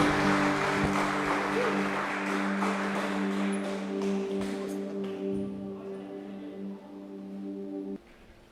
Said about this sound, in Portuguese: Dê uma salva de palmas para Jesus, querido.